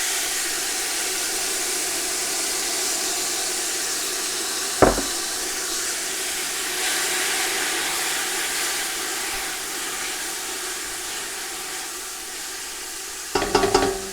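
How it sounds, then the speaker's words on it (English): Chopped onion hitting warm oil in a frying pan sets off a steady, close sizzle that hisses on throughout, broken by a couple of short clatters of utensil against pan. "now the oil seems to be warm enough. So I'm going to put the onion in"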